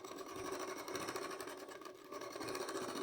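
A sewing machine stitches a katori blouse in a steady, fast, continuous run, its needle rattling evenly and close up throughout.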